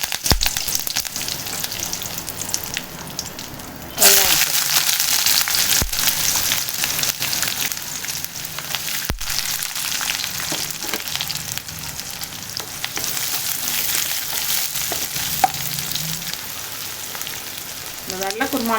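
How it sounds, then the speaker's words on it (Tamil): Whole cinnamon, cardamom, cloves and a bay leaf frying in hot oil for a white vegetable kurma, a steady close sizzle that jumps louder partway through and keeps crackling without pause. "2 பட்டை, 2 ஏலக்காய், 2 லவங்கம், ஒரு பிரியாணி இலை எல்லாம் போட்டு பொரியட்டும், நல்லா பொரியட்டும்"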